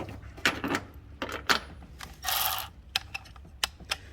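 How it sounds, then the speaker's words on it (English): An electric ratchet tightens spark plugs on a Toyota 4Runner 4.7L V8, giving faint scattered mechanical clicks and one short whirring buzz partway through. "So I'm going to be using the electric ratchet"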